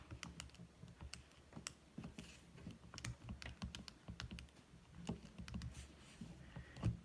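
Typing on a computer keyboard, soft irregular key clicks in quick bursts, faint and close in a quiet room.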